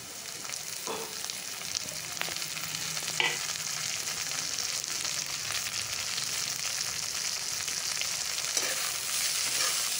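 Tomatoes and onions frying together in a pan for spiced potato curry, giving a steady, dense sizzle throughout with a few faint stirring scrapes.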